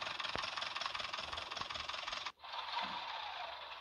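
A tractor engine idles in the video game Farming Simulator 20, a steady mid-pitched hum with faint scraping that briefly cuts out and then resumes at a slightly lower level, with no talking.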